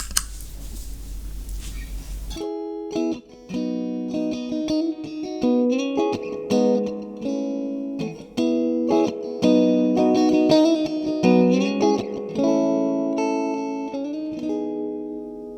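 An electric guitar plays through a Tank effects pedal on a pedalboard, with a short burst of noise and then distorted, sustained notes and chords that shift repeatedly, loud and close.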